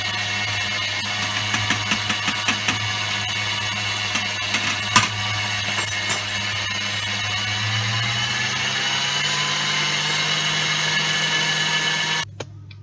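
Electric mixer beating cupcake batter with vanilla extract added, a continuous loud motor whine with light clicks and knocks of the beaters against the bowl, stopping abruptly at the end.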